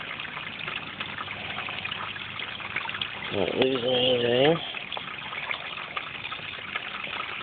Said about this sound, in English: Try to get creative with washing the bowl out.